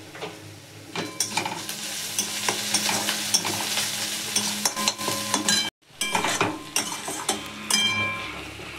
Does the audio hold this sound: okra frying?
yes